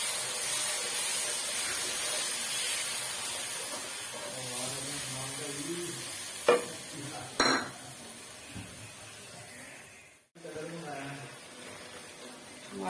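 Ginger garlic paste, onion, fish and spices stirred and frying in a pan, a steady broad sizzle with a few sharp utensil clicks against the pan and a voice talking over it throughout.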